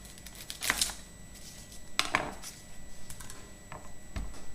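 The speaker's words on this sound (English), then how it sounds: "So cut the top of the onion off, not the root end." A knife cuts the top off an onion on a chopping board, with a few sharp, close tapping chops and clicks spaced irregularly over a quiet room.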